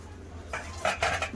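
A pot of well-boiled lentils, cooked with half a tomato, is tipped out. Brief close metal clinks and clatter of the pot and utensils sound over a low steady background.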